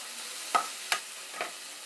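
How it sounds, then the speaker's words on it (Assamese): Tomato curry being stirred in a pan, with three short scraping strokes spaced about half a second apart over a steady low sizzle. No one speaks. "আকৌ এবাৰ চলাই লৈছোঁ"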